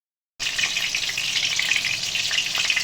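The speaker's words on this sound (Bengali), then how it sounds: "দেখো আমার পটলগুলো ভাজা হয়ে গেছে সুন্দর করে ব্রাউন কালার হয়ে গেছে" Pieces of pointed gourd fry in hot oil with a steady, close, hissing sizzle that starts abruptly and continues without pause, with no voices over it.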